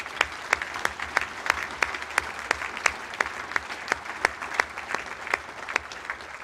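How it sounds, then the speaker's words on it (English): A luncheon audience at an Armed Forces Day event applauds a concert band. Distinct, evenly spaced claps ring out about three per second over a soft crowd wash, moderately loud and without talk. "I think they deserve a round of applause."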